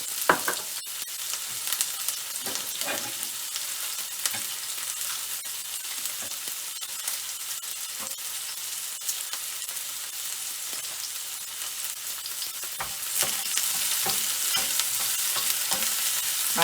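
Chopped onion, scotch bonnet and bell peppers fry in a pan over a medium flame with a steady, dense sizzle and occasional stirring scrapes, growing slightly louder toward the end, with no talking.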